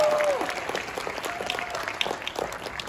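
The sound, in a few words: applause at convention opening ceremony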